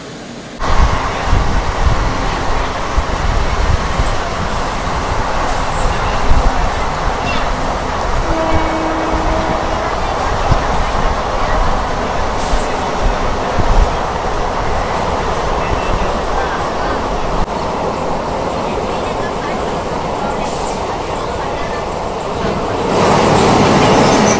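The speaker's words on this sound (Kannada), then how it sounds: "ಇದು ನಮ್ಮ ಟ್ರೈನ್ ಸದ್ಯಕ್ಕೆ ತಲುಪಿದೆ ಚಂದಗಿರಿ ಕೊಪ್ಪಳ ಹಾಲ್ಟ್ಗೆ" A Mysuru–Bengaluru MEMU passenger train runs on rails, heard from on board: a loud, continuous rumble and rattle that stays steady throughout, with faint talk underneath.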